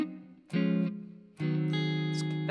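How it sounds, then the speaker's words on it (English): Electric guitar strums a song's rhythm in two ringing chord hits a second apart, each with a sharp attack and sustained tone, heard alone and close. "If you want to strum it, it would sound like this."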